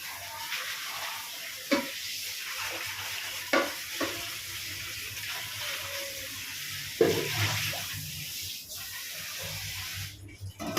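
Mutton cooks in water for biryani in a pot, giving a steady bubbling, sizzling hiss broken by a few sharp stirring clanks, close and fairly quiet, without talk.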